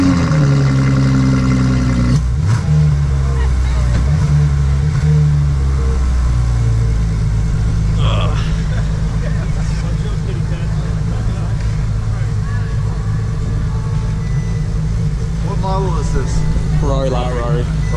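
A Ferrari LaFerrari supercar in Boston starts up and pulls away, its loud engine droning steadily throughout with a rising rev early on, while people talk over it.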